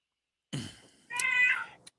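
A cat gives two clear, close meows in near silence, a short low one followed by a longer, higher drawn-out call.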